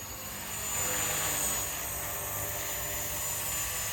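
Blade 230s Smart v2 collective-pitch RC helicopter in flight, a steady moderate whine of the rotor and motor with a slight swell early on and no voices.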